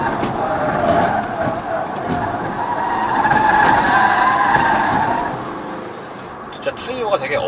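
Tires on a Peugeot 3008 GT SUV squeal and grip hard through a corner, a sustained whining squeal rising over engine and road noise for several seconds, while someone talks throughout.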